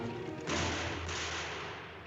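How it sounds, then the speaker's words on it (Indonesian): Two gunshots ring out in a scene from the film North by Northwest, a sharp burst followed about half a second later by a second crack, both over a steady hiss of background noise. "Saat mereka akan naik pesawat, terdengar dua tembakan."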